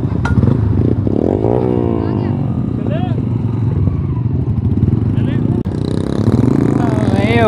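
Motorcycles ridden at night during an Independence Day bike ride, engines loud and close with revving and rising, falling pitch as bikes pass, mixed with clatter and a voice talking over the noise.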